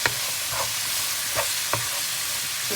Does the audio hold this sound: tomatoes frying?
yes